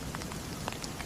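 Rain falls steadily on surfaces outdoors, a soft, constant hiss of patter with scattered individual drops, faint and uninterrupted, with no talking.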